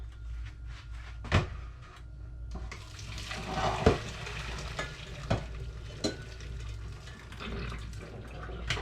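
Cooked white fish is drained in a kitchen, with running and splashing water, stirring scrapes, sizzling and a few sharp clatters, close and moderately loud without talk.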